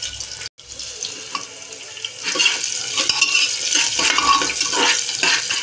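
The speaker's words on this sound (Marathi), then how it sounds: "आता हे आपण चांगलं फ्राय करून घेऊ." Chopped ginger and garlic frying for dal khichdi, a steady close sizzle with scattered stirring scrapes and clinks that grows louder after a brief gap near the start.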